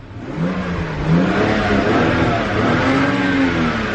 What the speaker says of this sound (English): Let's go ahead and rev it.